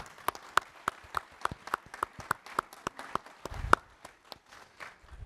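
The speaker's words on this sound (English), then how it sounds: "I just want to say an applause to John" A few people at an economics policy panel clap in a slow, evenly spaced rhythm, close and distinct individual claps that thin out into scattered ones.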